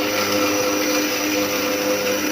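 An old mixer grinder, about ten to twelve years in use, whirs steadily as it grinds churma into powder, a continuous loud motor drone with no breaks and no voices.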